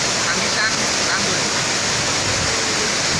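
Antrokan waterfall in a forest, a steady, loud, dense rush of falling water filling the whole clip without breaks.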